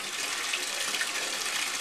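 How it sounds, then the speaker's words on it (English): Tap water runs steadily into a container being filled for home beer brewing, a constant close hiss and splash with no talking. "I'm just going to fill it up a little bit more, just to kind of stir up the water"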